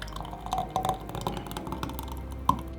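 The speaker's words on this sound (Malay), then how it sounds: "Dan saya tuang." Freshly blended sugarcane juice from a vacuum blender pours into a glass with a soft, steady liquid trickle and drips, then ends in one sharp glassy clink near the end.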